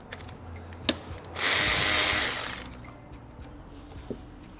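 A power tool, likely an impact driver, runs in one sustained burst of about a second while taking out the bracket bolts, sizes 12 and 10, on a 2018 Honda Accord 1.5L turbo during head gasket work, with faint clinks before and after.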